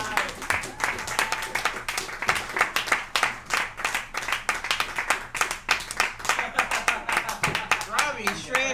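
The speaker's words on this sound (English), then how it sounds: "If you're an audience member and you know it, clap your hands." An audience at a stand-up comedy show in a Seattle tavern claps its hands in time, a rhythmic string of sharp, close claps that runs the whole way through, with voices heard beneath it.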